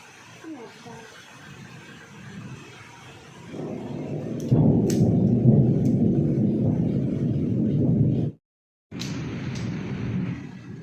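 A loud, broad roar of heavy rain or rumbling thunder swells in, holds steady, cuts out briefly, then returns.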